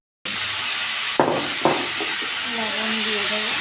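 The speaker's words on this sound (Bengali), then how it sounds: "হলুদ দিয়ে ভেজে নেব।" Beet and turmeric frying in a pan, giving a loud, steady sizzle and hiss that starts suddenly and continues without a break, with a couple of clinks and a faint voice in the background.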